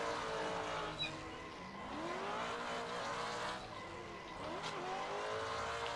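Car in the Assetto Corsa racing game understeering and drifting through a corner, a steady engine drone with sweeping pitch changes and tire squeal layered throughout, continuous and fairly loud with no talking.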